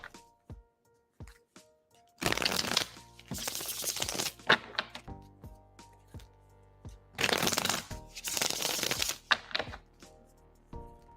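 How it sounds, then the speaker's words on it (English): Tarot cards are shuffled in two long riffling bursts close by, with scattered taps and single card snaps before and between them, backed by a faint tonal hum. "I'm gonna go ahead and shuffle for you now."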